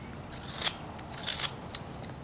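Carving knife trimming a wooden kangaroo caricature: three short scraping cuts, the third briefest, each a crisp rasp against the wood, close and fairly quiet with no talk.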